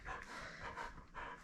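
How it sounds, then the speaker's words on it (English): A puppy pants and growls softly while tugging on a toy during play, a close, continuous breathy rasp with faint whimpers and no talking. "I'm playing currently with my puppy right now. Hey, playing tug."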